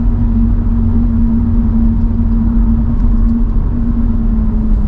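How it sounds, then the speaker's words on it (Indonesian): Steady, loud road and wind rumble inside a Toyota Fortuner moving at about 100 km/h, with a constant low drone and no voices. "Ini suara angin ya."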